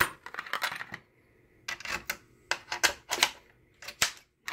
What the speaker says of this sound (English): And we'll put all these big screws back in.